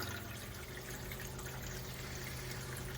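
Water running steadily as it pumps out of a Marine Trader boat's water system during winterizing, a continuous close gushing and hissing wash with a low pump hum underneath, unbroken throughout.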